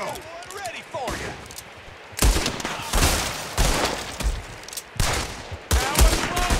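Bursts of gunfire crack out in Red Dead Redemption 2 as a shooter fires from a window during an ambush, the loud, close volleys arriving in clustered salvos with short gaps between them.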